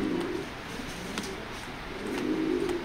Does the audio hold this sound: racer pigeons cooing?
yes